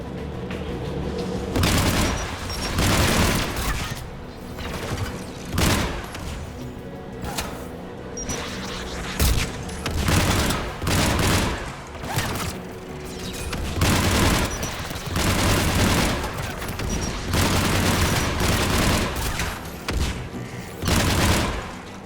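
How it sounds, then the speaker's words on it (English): Anti-aircraft guns firing in the Mass Effect game: loud, repeated heavy booming bursts at a steady rhythm over a continuous roaring background, close and dominant with no talk. "AA guns ahead of us."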